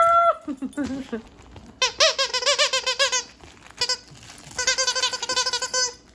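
Repeated high squeaks from a squeezed dog toy, coming in quick rhythmic bursts with short pauses between, close and loud.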